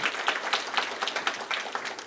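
Audience clapping at a leaders' summit in a hall, a moderate burst of many hands with a loosely pulsing rhythm and no voices.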